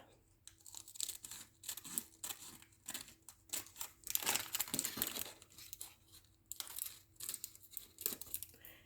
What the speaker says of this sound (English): And I'm going to cut this little flap here.